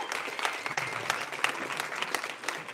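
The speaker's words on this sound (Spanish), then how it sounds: "Un aplauso, por favor, para ellos dos" An audience at a crypto hackathon event applauds the sponsors, a fairly quiet but steady patter of many hands clapping, with no voices over it.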